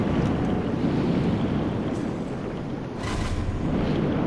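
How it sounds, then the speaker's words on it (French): Underwater ambience after diving into water in the video game Sekiro: a steady, loud, muffled wash of broadband rumble with a brief swell near the end, no voices. "plonger dans l'eau."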